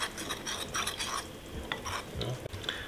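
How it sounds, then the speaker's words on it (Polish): A spoon stirs potato starch into cold water in a bowl, giving quiet, close scraping and swishing with soft clinks against the bowl. "Jedną łyżkę mąki ziemniaczanej. Mieszamy do rozpuszczenia i dolewamy do"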